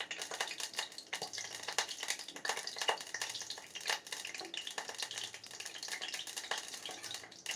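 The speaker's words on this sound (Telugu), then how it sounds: "సో జీడిపప్పు వేగుతుంది కదా" Cashews frying in hot groundnut oil, a soft continuous crackling sizzle with faint stirring, heard up close and fairly quiet, with no voices.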